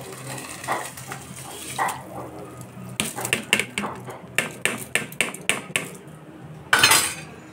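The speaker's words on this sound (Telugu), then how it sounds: "రైస్ వేసేసుకుంటున్నాను" Rice poured into a pot of boiling water for moong dal khichdi, a run of sharp clinking and scraping hits in quick succession against metal, fairly close, with quieter kitchen noise before it.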